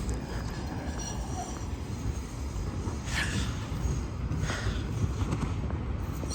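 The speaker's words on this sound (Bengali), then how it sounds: "এটা হচ্ছে ট্রাম" A tram in Moscow rolls by with a steady rumble and clatter of wheels on rails, and a couple of brief metallic squeals cut through.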